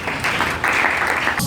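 A church congregation gives loud applause and cheering in praise of Jesus during a sermon, steady and close throughout, with voices mixed into the clapping.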